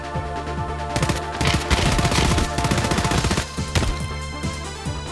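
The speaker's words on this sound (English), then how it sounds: "Bro, he just shot at me" Rapid automatic gunfire from a firefight in the shooter game Escape from Tarkov, dense bursts of shots rattling close and loud over a steady game background for several seconds.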